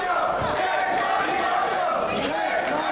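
Crowd at a German Wrestling Federation show in Berlin chanting and cheering, a dense steady roar of many voices filling the hall, loud and continuous.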